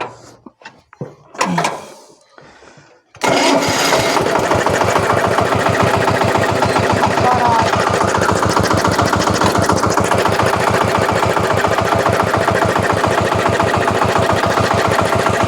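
A KENTAVR walk-behind motor tractor engine starts up after a few brief knocks and settles into a loud, steady, rapid chugging that stays close and constant as the hand throttle is gradually opened.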